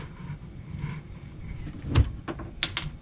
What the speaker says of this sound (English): we have a fully functioning drawer with a pencil lock